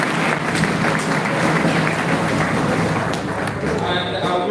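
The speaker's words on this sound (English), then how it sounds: "she deserves a better round of applause." Applause from an audience at a Nigerian police school-safety protection event, steady and fairly loud throughout, with crowd voices mixed in.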